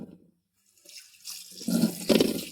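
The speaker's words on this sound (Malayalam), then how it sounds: "കുറച്ച് വെള്ളം ഒഴിച്ചു കൊടുക്കാം" Water splashes and pours into a basin in short bursts as fish are washed, growing louder toward the end, with a brief quiet gap near the start.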